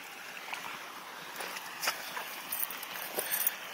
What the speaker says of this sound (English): It makes a little waterfall there.